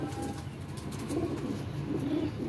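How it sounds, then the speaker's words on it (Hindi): Low, soft cooing of Kalandari pigeons repeating in gentle throaty rolls, fairly close, with no talking. "कलंदरी कबूतर है"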